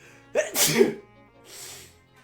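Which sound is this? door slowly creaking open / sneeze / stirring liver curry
sneeze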